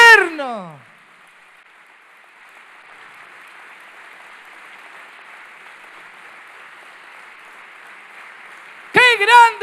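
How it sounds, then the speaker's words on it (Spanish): Congregation applause at a church service, a sustained, distant wash of clapping between two short bursts of a preacher's voice at the start and end. "¿Cuántos dan un aplauso a Jesús, al Señor, al Espíritu Santo?"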